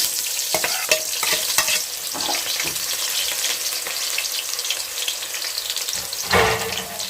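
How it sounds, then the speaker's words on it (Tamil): Chopped large onions go into hot oil with cinnamon and cloves in a frying pan for a country chicken curry, giving a loud, steady sizzle with repeated stirring scrapes and a brief surge of crackling near the end. "அதுக்கப்புறம் வெட்டி வச்சிருக்க பெரிய வெங்காயத்தை போட்டுக்கலாம்."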